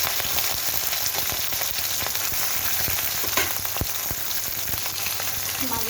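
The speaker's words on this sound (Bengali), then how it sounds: "এবার এর মধ্যে আমি মাছগুলোকে দিয়ে দিলাম।" Fish fry in mustard oil with black cumin and a bay leaf in a wok, a steady close crackling sizzle with scattered pops throughout.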